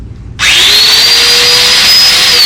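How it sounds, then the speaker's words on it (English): A Festool Domino joiner spins up and runs with a steady, high-pitched whine over a dense mechanical hum. The sound is close, loud and continuous, with no talking. "you can think of it as a precision drill that just oscillates back and forth"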